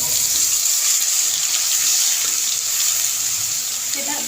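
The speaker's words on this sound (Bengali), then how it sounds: "তেলের মধ্যে দিচ্ছি প্রথমেই আদা রসুন পেঁয়াজ বাটা" Ginger, garlic and onion paste hits hot oil in a pan while cooking rohu fish curry, giving a steady, hissing sizzle that stays even and fairly close, with no voices.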